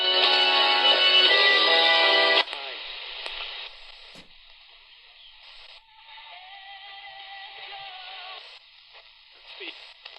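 A portable emergency radio under $50 tuned across the band, giving steady hiss and static with warbling tones and faint broadcast voices drifting in and out, loud at first and then quieter.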